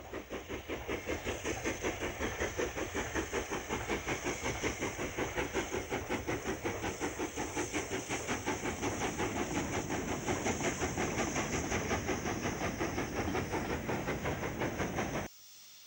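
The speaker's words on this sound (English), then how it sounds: "Another tender first locomotive, a 4F number 44558" A 4F steam locomotive, number 44558, runs tender first hauling empty wagons back to Norton Hill Colliery at Midsummer Norton in January 1963, a steady rhythmic chuffing and hiss with clicking wheels that continues unbroken before cutting off abruptly.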